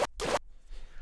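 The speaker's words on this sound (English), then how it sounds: "that's the sound of me plunging into the water, sped up a bunch" Sped-up Minecraft sound of a player plunging into water: two quick, bright splashing bursts, then a faint fizzy bubbling tail, short and close.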